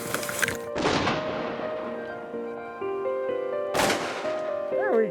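Shotguns fire at waterfowl on a hunt in Saskatchewan, three sharp close blasts at irregular intervals, each trailing off into ringing echo across open country.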